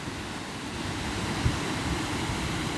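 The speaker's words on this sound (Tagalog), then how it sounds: "Kita nyo, ang ganda ng alon, no? Lakas." Strong surf rolls onto a beach in San Felipe, Zambales, as a steady, loud wash of breaking waves with no pause, topped by a faint low thump midway.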